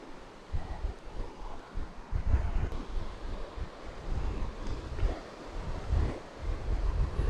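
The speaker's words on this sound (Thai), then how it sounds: "นี่แหละครับ ชายทะเลเย็นเย็นที่เมื่อก่อนมีนักท่องเที่ยว เยอะมากเลย" Wind gusts and surf wash over a seaside beach, with waves rolling in and out in uneven surges under heavy buffeting of the microphone, loud and close, with no voices.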